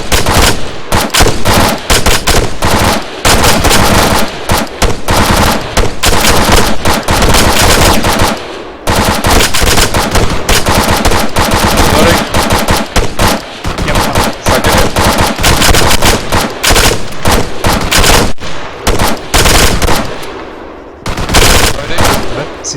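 Rifle and machine gun fire during weapons training, with loud, dense bursts of rapid shots from several weapons overlapping almost continuously, broken by a couple of brief pauses, close by.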